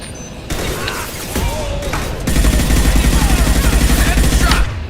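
Gunfire from Mass Effect during combat: loud, dense bursts of rapid shots over a steady backdrop of battle noise, with the firing growing heavier and more continuous partway through.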